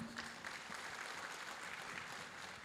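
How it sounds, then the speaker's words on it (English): A faint, distant ripple of applause greets an award recipient at an outdoor Statehood Day celebration in Baghmara, Meghalaya, a thin, steady clatter of hands under low background noise. "please give a round of applause to the recipient"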